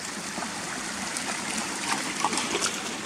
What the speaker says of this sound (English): But the stream runs all the way down here, look, from the waterfalls up there.